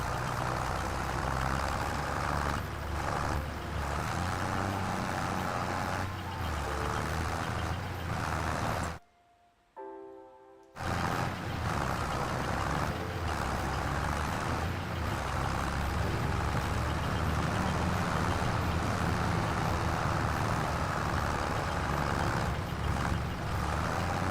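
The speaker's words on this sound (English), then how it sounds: "I'm just like listening to this John Deere struggle." A struggling John Deere tractor engine in the Farming Simulator 25 video game drones loudly and steadily throughout, broken by a brief near-silent gap partway through.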